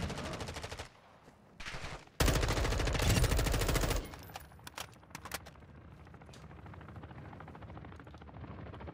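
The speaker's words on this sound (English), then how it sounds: "Helicopter." A helicopter passes overhead in the Warzone 2.0 DMZ video game, its steady rotor roar running under bursts of heavy machine-gun fire and scattered gunshots, loud and close.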